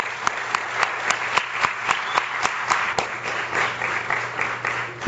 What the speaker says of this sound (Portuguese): Desde já uma salva de palmas para ele.